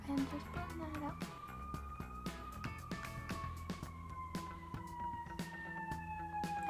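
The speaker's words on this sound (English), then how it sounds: "Sorry if you can hear the siren. I live next to a fire station." A fire engine siren wails next door to a fire station, its tone sweeping slowly and steadily under someone talking nearby, with sharp tapping and clicking sounds close by.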